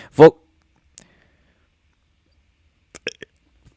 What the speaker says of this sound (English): Wait, I got to burp again.